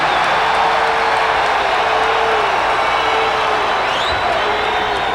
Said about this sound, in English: I think the fans were cheering there because they called the foul on Michael Jordan